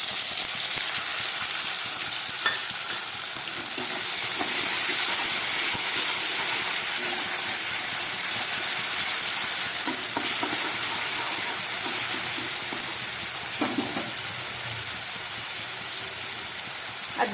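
Onion paste stirred into potatoes fried red in oil for a Bengali rui fish curry, a steady sizzling hiss that swells after a few seconds, with occasional spoon scrapes and clinks, no talk.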